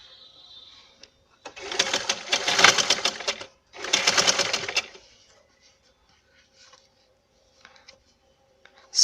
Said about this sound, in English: so just stitch it and try to see that your elastic will not come in your stitch